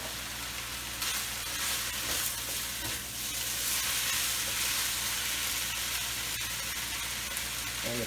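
Peppers and carrots go into a frying coconut curry with chicken, bringing a steady close sizzle and stirring clatter throughout, with no talk.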